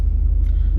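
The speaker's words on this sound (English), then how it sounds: "I hope you guys can hear the car" A 1989 Pontiac Firebird Formula engine rumbles with a deep, steady, pulsing low drone at close range, continuous for under a second with no voices.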